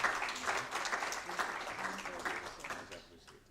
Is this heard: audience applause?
yes